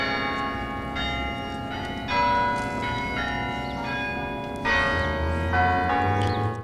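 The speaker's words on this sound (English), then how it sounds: "We are hearing the Chimes concert." A daily six o'clock chimes concert of church bells rings melodic struck tones in the background, notes overlapping and sustaining one after another at moderate volume.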